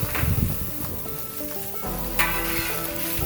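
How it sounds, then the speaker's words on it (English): Onions caramelize on a hot grill for a breakfast hash, sizzling and crackling steadily at close range, with a few clinks and scrapes from stirring and no talking. "We'll start off with these onions. Let them caramelize up for a few minutes."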